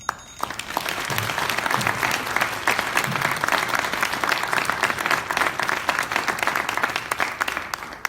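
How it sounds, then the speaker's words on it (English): An audience at a Democratic congressional candidates' forum in Texas breaks into loud, sustained applause, with crisp dense clapping that starts abruptly and stays even for several seconds. "can you just please have another round of applause"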